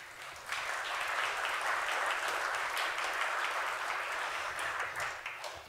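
An audience at a historical lecture on Welsh-Canadian maritime links applauds to welcome lecturer David Jenkins, a warm, steady wash of many hands clapping that holds for several seconds before tapering slightly, with no voices.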